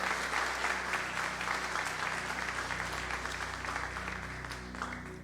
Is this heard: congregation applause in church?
yes